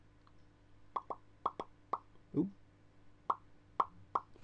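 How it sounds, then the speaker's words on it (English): A series of short, sharp plops and squelches as glue is applied to a tiny grass tuft for a Warhammer model, about a dozen spaced unevenly, close by and fairly quiet, with a brief murmured voice midway. "That was the noise of me putting glue on the tuft."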